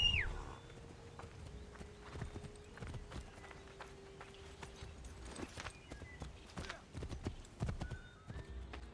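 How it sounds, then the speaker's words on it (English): Horse in the game Assassin's Creed 3 Remastered clip-clops along in quick, uneven hoofbeats at modest loudness, with a whinny breaking out near the start. "call my horse."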